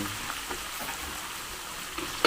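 Shrimp hit hot oil with fragrant garlic in a pan, setting off a steady close sizzle and crackle of frying that holds for a couple of seconds, ending in a brief sharper clatter.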